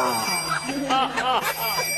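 Mobile phone ringing with an incoming call, a bright repeating tonal ringtone heard up close, with faint talk underneath.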